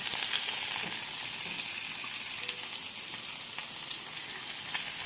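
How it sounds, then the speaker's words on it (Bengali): Onion and tomato frying in a pan, a steady broadband sizzle that holds evenly and fairly close throughout, with no talking over it. "এবারে এটাকে একটু হালকা করে ভেজে নেব, পেঁয়াজ আর টমেটোটা"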